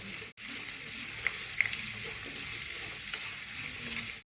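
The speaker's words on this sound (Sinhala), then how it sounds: "ලුණු සුදු ලුණු ටික බැදෙනකොට තෙලේ ටෙම්පරාදු වෙනකොට" Onion, garlic, cardamom pods and a piece of cinnamon bark frying in hot oil in a pan for an egg curry, giving a steady close sizzle with light stirring clicks and no voices.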